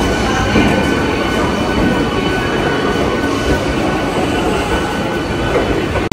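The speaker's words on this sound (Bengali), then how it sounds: "আমাদের সাঁতরাগাছি যাওয়ার লোকাল ট্রেন সেটা কিন্তু ইতিমধ্যেই ঢুকে পড়লো" A local train pulls into platform 13 at Santragachi station, a steady loud rumble of wheels and carriages with faint rail squeal running throughout, no voices.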